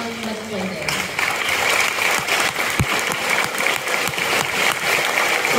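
Graduation audience at a 5th grade ceremony at Steeplechase Elementary applauding, a dense, steady wash of clapping that swells in after a quiet start and holds loud, with a few sharper claps and voices mixed underneath.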